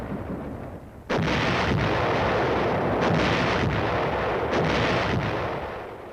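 U.S. Army field artillery firing during a sustained forward drive, a heavy sudden blast about a second in followed by a continuous loud rumbling roar, with several fainter distant gun reports punctuating it.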